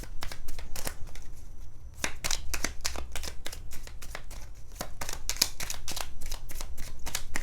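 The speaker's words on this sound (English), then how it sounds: "Okay, one more shuffle." Tarot cards are shuffled by hand in quick, crisp riffling bursts, a close and continuous run of papery snaps with only a short pause early on.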